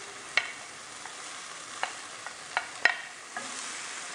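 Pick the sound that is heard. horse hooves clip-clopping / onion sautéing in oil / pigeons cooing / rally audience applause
onion sautéing in oil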